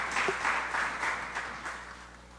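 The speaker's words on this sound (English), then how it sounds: "Give also another lusty round of applause." Audience applause in a community meeting hall at a multi-purpose facility, a steady moderate round of clapping lasting about two seconds and fading slightly toward the end.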